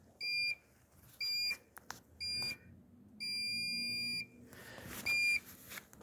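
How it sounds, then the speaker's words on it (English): A RaceGorilla photocell timing system gives off its internal electronic beep: a series of short, clear, high-pitched tones, some brief and one held longer, with small clicks between them in a quiet room. "So that was a time beep,"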